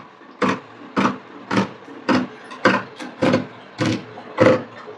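Shears cutting through eight stacked layers of blouse fabric, nine crisp evenly spaced snips at about half-second intervals, close and fairly loud with no talking.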